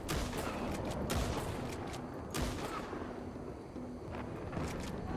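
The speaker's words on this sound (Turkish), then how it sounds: "Kafadan vuruyorum." Gunshots ring out in the zombie mode of Red Dead Redemption 2, a run of sharp, loud cracks at irregular intervals over a constant noisy background.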